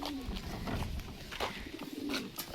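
Pigeons coo softly nearby in low, throaty murmurs, a few overlapping calls against a faint background hum.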